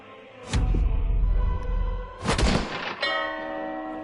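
A bell tolls in the Batman: The Enemy Within game, two heavy booming strikes with a long metallic ring, followed by a clearer sustained ringing tone near the end, loud and close, with no talking.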